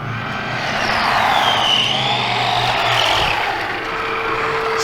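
Arrma Infraction RC car drifting outdoors, a continuous high-pitched electric motor whine with rising and falling pitch as it slides and spins donuts, steady and fairly loud with no talk.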